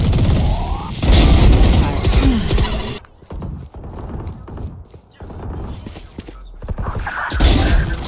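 Rapid gunfire and heavy impacts in the tactical shooter Valorant, loud sustained bursts at first, then thinner scattered shots and thuds, rising into dense firing again at the end.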